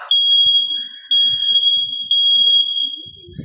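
A smoke alarm under test sounds a loud, continuous high-pitched tone that pulses three times, with faint background noises underneath.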